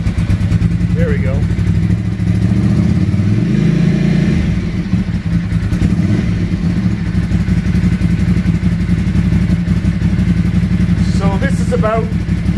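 A 1986 Ducati Paso 750 motorcycle idles loudly and revs under hand-pulled throttle cable, the engine note rising and falling with a clattery rumble while someone talks over it.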